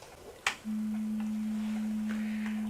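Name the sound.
brainwave monitor tone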